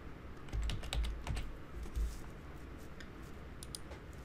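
Rapid typing on a computer keyboard, a close stream of crisp key clicks with a few heavier thumps, steady for several seconds over low background noise.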